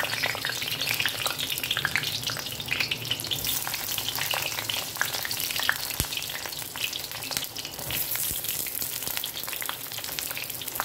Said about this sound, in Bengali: বেগুনটাকে আমি এখানে ফ্লেমটাকে হাইতে রেখে ভেজে নেব